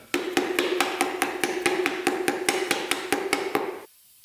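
Steady, evenly spaced hammer blows, about five per second, sharp metallic knocks close by, stopping abruptly near the end, from hammering pistons into a Nissan Skyline R33 engine.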